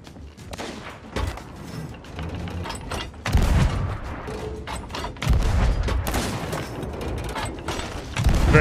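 Flintlock pistol gunshots in the pirate video game Sea of Thieves, loud booming reports scattered among game clatter and mechanical noise, with several sharp bursts standing out from a busy, continuous backdrop.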